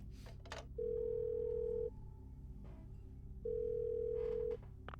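Two long, even electronic phone rings sound in the Parasite Eve II video game, each lasting about a second with a pause between, over a low humming game background.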